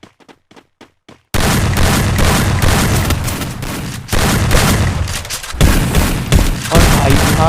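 Heavy gunfire from a battle royale video game match, dense bursts and booming shots that run loud and nearly continuous after a few quiet ticks at the start, with a brief spoken word over it.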